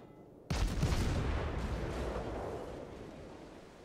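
A single heavy naval artillery salvo of armor-piercing shells booms out in World of Warships, one loud blast followed by a long rolling decay.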